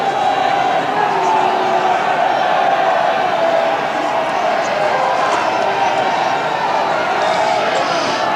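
A rugby crowd at a 1991-92 Pilkington Cup semi-final between Leicester Tigers and Quins roars steadily to get behind the team, a continuous distant stadium noise that sits under commentary.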